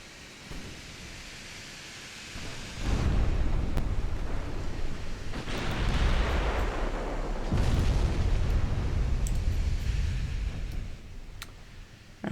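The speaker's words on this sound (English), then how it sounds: "Tate is firing on the battleship, actually very effectively" Heavy battleship gunfire in the naval game Dreadnought Improvement Project, a deep rumbling roar of shell blasts building after a quiet start and rolling on loudly and continuously with no voices.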